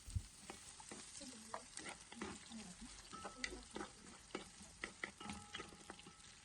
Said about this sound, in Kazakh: Енді қазанымызға 250-300 грамдай сұйық майды құйып, қызғаннан соң пиязымызды салып,